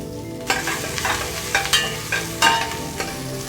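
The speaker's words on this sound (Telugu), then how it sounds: "ఈ నూనె బాగా వేడెక్కినాక ఇందులోకే ఒక మీడియం సైజ్ ఉల్లిగడ్డ తురుము నాలుగు పచ్చిమిర్చి చీలికలు" Grated medium onion and slit green chilies frying in hot oil in a pan for an aloo beans tomato curry, a close, steady sizzle broken by repeated stirring scrapes.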